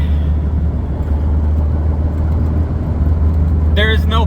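A car cruising at freeway speed, with a carbureted engine fitted with IDF Zero carburetors running smooth. Steady low road rumble and engine drone fill the clip, with a brief voice near the end.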